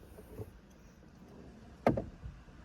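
A car door latch clicks and the door thumps open, preceded by faint shuffling in a quiet space.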